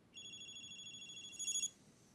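A phone rings with a short, faint electronic ringtone made of bright, steady tones that brighten briefly near the end.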